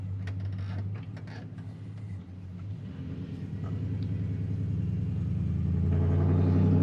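A second-generation Ram truck engine revving up through the gears, a steady low rumble that grows louder over the final seconds, with no one talking.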